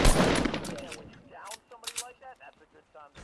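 Gunfire in an online shooter game rattles out in a dense, loud burst of rapid shots at the start, then gives way to a voice talking with a few faint shots between.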